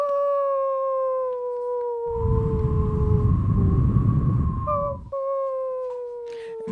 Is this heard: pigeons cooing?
no